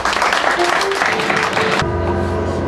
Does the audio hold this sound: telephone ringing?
no